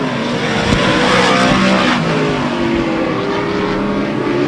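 Modified race cars roar around the oval at Airborne Speedway in Plattsburgh, New York, during a qualifier, engines loud and steady with pitch sweeps as cars pass the microphone throughout.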